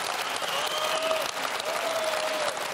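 Audience applause at a German political cabaret show, a dense continuous wash of clapping from a large crowd, steady and fairly loud throughout with no pauses.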